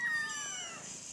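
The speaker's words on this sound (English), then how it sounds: "Here's a kitten." A kitten lets out a single high, drawn-out meow close by, fairly quiet and fading toward the end.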